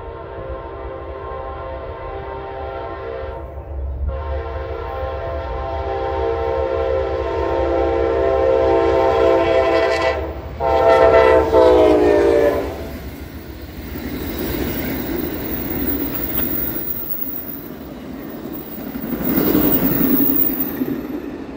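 Amtrak Lake Shore Limited passenger train, running late, passes a crossing with a long sustained horn blast over rolling rail rumble, then wheel and car noise continues as it rushes by close and loud.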